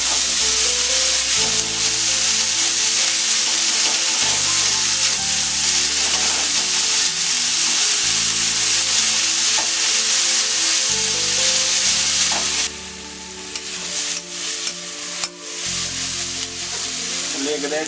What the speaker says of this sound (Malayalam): നമുക്ക് നന്നായിട്ടൊന്ന് വഴറ്റി കൊടുക്കാം.